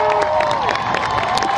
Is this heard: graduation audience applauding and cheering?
yes